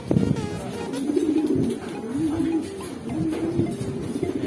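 A racing pigeon that has just arrived home coos in soft, repeated low rolling calls, close and clear, with faint background noise and a little talk nearby.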